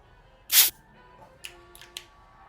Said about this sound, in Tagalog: isang spray lang